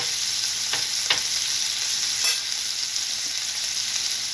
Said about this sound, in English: This is actually my first time ever doing ground beef on the Steelmade.